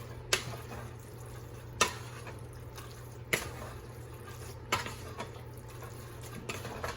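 Red pepper being mixed into a buffalo chicken Alfredo sauce, with a spoon tapping the pot edge in regular sharp knocks about every second and a half over a low steady hum, close by and without talk.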